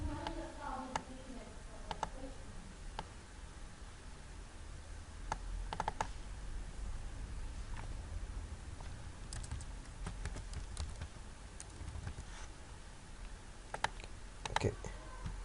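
Someone types text into map editing software on a computer keyboard, with sparse, soft key clicks scattered over steady low background noise.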